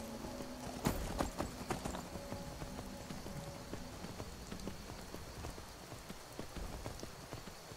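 Horse hooves clip-clop at a steady walking rhythm in the game Skyrim, soft and fairly distant under a constant rain-like hiss, with one sharper hoof strike early on.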